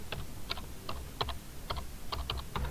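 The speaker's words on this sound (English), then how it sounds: "I'm just going to type in description" Fingers tap on a computer keyboard in short irregular bursts of quiet clicks, close and fairly soft, with no talking.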